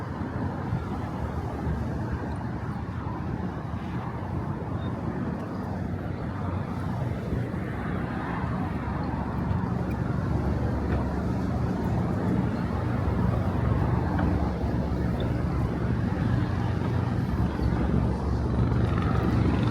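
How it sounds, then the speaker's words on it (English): An NYPD helicopter passes over a New York bridge as a steady, broad engine and rotor drone, growing a little louder midway and holding at moderate level amid city ambience. "That's an NYPD helicopter going right over the bridge."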